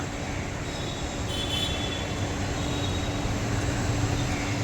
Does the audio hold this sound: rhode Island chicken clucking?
no